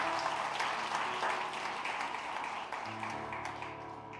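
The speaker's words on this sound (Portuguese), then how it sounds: "Você pode aplaudir ao Senhor por essa palavra?" A church congregation applauding during a celebration service, a moderate wash of clapping that slowly thins out, heard at a distance with a low hum underneath.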